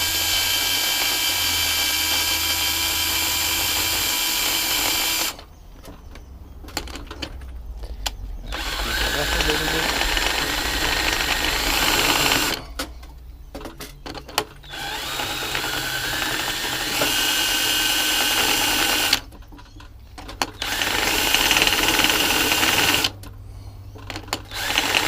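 A power drill running at low speed spins a sandpaper-covered fitting inside a 1 1/2-inch Ajax/Myers piston pump, a steady whirring grind that runs in long bursts with short pauses between them.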